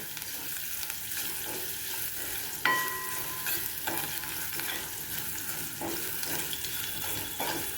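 Garlic frying gently in a pan over a low gas flame, with a steady soft sizzle and occasional stirring scrapes and clinks, close and fairly quiet throughout.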